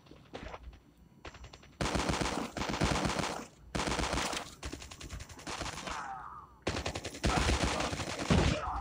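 Sniper rifle gunfire in Call of Duty Mobile comes as loud, blasting bursts separated by brief gaps, close and punchy, with no speech over it.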